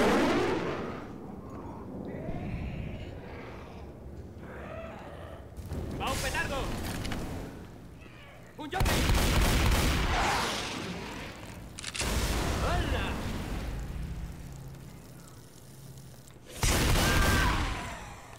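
Bursts of booming explosions and rapid gunfire come in several waves, loud and chaotic, with a voice talking between them, in the video game Left 4 Dead 2.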